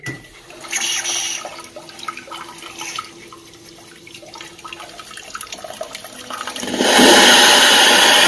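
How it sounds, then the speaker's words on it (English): Water sprays from the posterior wash nozzle of a Luxe Electric Bidet E890. A soft hiss and faint clicks come first, then a loud, steady rush of spraying water starts near the end. "the first feature I want to demonstrate to you guys is the posterior wash"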